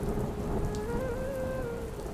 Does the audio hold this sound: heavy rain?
yes